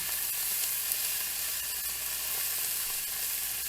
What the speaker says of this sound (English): You just want to stir it in until that is all melted.